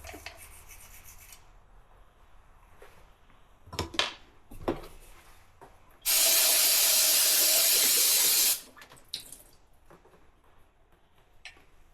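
Carb cleaner is sprayed onto a 2003 Sportster 1200 CV carburetor during a teardown, a loud steady hiss lasting about two seconds, set among scattered handling clicks and rubbing noises.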